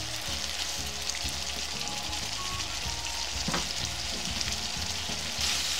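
Hilsa fish pieces coated in spice paste fry in a pan for a Bangladeshi nona ilish curry, giving a steady, close, moderately loud sizzle that crackles continuously with no talking.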